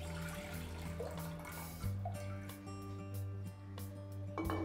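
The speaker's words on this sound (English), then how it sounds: "now I'm going to first add 2 cups of water to the cooker" Water poured into a pressure cooker sitting on a stove flame for broccoli soup, a faint, steady trickling stream with a low background hum, no talking.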